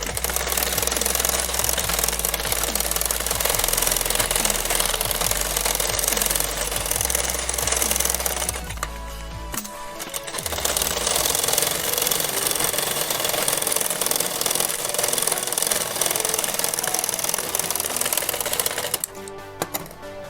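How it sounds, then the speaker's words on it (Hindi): An electric sewing machine straight-stitching lining to the main fabric, running in loud continuous bursts with a short pause midway and a stop near the end. "अब यहाँ जो है वहाँ सीधी सिलाई लगा देंगे, जिसमें अस्तर और जो मेन फैब्रिक है वो एक साथ अटैच हो"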